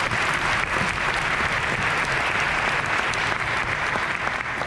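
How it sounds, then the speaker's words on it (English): Sustained applause from a large audience at a world-class event, a thick, even roar of many hands clapping at once, steady and fairly distant, with no voices rising above it. "Give Andrew a round of applause, please"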